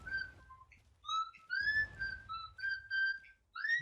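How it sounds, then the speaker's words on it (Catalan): Sharp, tonal whistles sound in a tactical shooter video game, several short rising and falling calls in quick succession with brief gaps, fairly loud and clear with no speech. "Un xiulo."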